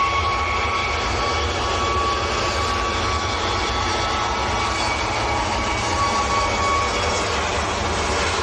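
A Ryanair Boeing 737 Max jet bound for Malaga at Manchester Airport gives a steady, loud, broadband engine roar that holds evenly throughout, with no talk over it.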